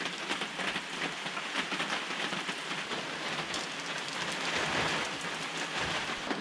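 Heavy rain falls at an off-grid cabin as a dense, constant hiss and patter from start to finish, with nothing else over it.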